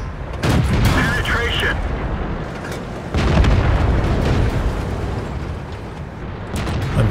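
Heavy booming tank gun shots from World of Tanks, with a big blast near the half-second mark and another around three seconds over a constant rumble of engine and battle noise, while a voice talks throughout.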